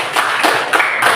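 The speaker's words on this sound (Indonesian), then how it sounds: "Tepuk tangan untuk kelompok 3" A short burst of applause after a student group's presentation, several quick hand claps in uneven bursts, fairly close, with no voices over it.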